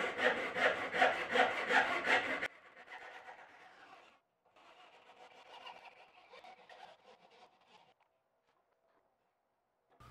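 A hand saw cuts a knife handle scale in quick, loud back-and-forth strokes for a couple of seconds, then softer, slower rasping strokes follow before the sound trails off into near silence.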